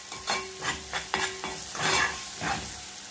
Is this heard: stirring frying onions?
yes